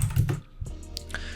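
A few computer keyboard key presses, short clicky taps spread over a second or so, close and fairly quiet, with no talking, while working in After Effects.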